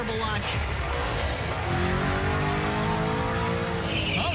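A $100,000 Camaro and a showroom-stock Porsche race from a launch, engines roaring loud and continuous with rising revs and tire noise, under a commentator's excited talk.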